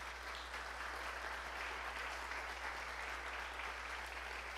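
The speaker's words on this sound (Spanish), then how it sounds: "Por eso dice le da un aplauso al Señor esta noche usted por esa palabra" A church congregation applauds during a Wednesday evening worship and discipleship service, a steady, even wash of clapping held at constant level throughout, faint and somewhat distant, with no one speaking over it.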